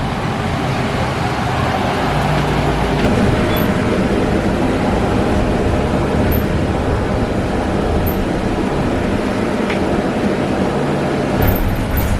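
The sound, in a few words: Putnam County Transit bus arriving at stop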